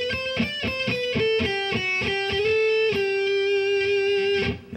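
Electric guitar plays a slow major arpeggio, picked note by note up and back down, ending on a sustained G, then runs into scale notes; clean, close and unaccompanied.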